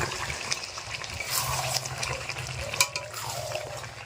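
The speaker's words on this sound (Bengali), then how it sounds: "মা এদিকে চিকেন কষা করছে দেখো" Chicken kosha being stirred and fried in a pan, with a steady moderate sizzle and intermittent scraping and stirring sounds, close and alone.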